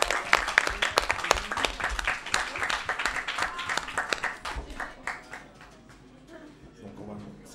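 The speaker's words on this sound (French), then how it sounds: "On applaudit." Audience applause at a quiz show event, a dense crowd clapping loudly at first and gradually thinning and fading out over several seconds.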